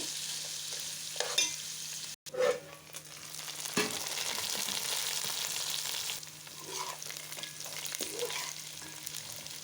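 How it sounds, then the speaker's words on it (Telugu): Onions sizzle and fry in hot oil for a poha mixture, a steady hissing crackle with occasional louder stirring scrapes, close and moderately quiet. "ఈ ఆనియన్ని మంచిగా క్రిస్పీ టైప్లో ఇలా ఆయిల్లో వేయించుకుంటే"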